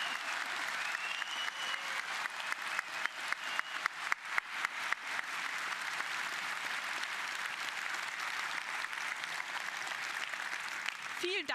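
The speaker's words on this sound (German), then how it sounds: "dann Ihr Applaus bitte jetzt" An audience at a live event applauds a team presenting chatbots, with sustained dense clapping lasting the whole stretch, full and steady, with a few sharper claps standing out near the middle.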